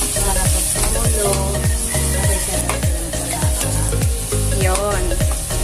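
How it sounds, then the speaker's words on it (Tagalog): Stirring pakbet in a pot with shrimp and Knorr cubes, a loud, close sizzle of frying under repeated scraping strokes of a spoon in a steady rhythm. "ilalagay po natin yung hipon na nor cubes. Tapos hahaluin po."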